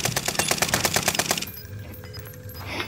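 Rapid automatic gunfire in the Fortnite video game, a fast, loud string of shots for about a second and a half, then a quieter tail of game ambience.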